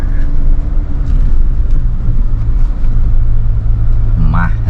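A Tank 300 four-wheel-drive SUV pushing through mud, its engine a loud, steady low rumble from inside the cabin, with people talking over it.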